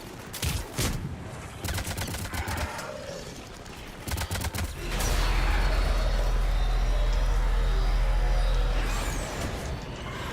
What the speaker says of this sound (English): So annoyed by that cannon.